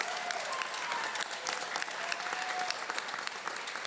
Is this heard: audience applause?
yes